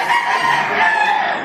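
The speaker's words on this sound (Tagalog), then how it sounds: "Yun po ang aming golden hen." A golden hen gives a loud, close, rough crow-like cry lasting about a second and a half.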